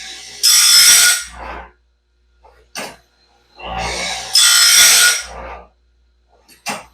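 A standard grinding stone works over new Norwood Stellite sawmill bands in two bursts of harsh, hissing abrasive grinding, close and loud, separated by short mechanical clicks and quiet gaps.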